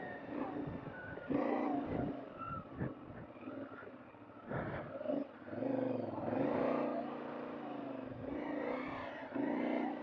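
A dirt bike engine idles and revs unevenly in deep sand as the rider works the clutch, its motor note rising and falling continuously at moderate distance with wind noise.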